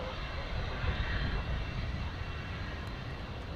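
A Boeing 737-8 in OneWorld livery roars steadily at Dallas Fort Worth airport, a broad, loud engine rumble that swells slightly and then holds.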